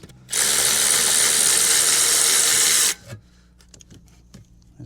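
A ratchet socket wrench undoes turbo bolts on an abandoned Golf GTI's engine, one loud continuous buzzing ratchet run of about two and a half seconds, followed by a few faint clicks and knocks.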